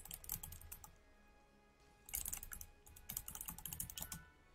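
A computer keyboard clicks loudly under fast typing: crisp, close keystrokes in rapid bursts with a brief pause between runs.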